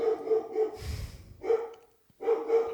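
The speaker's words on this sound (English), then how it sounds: "She's not going to stop barking." Marley, a female dog, barks in a short series of sharp barks indoors, with a brief pause before a final burst of barks.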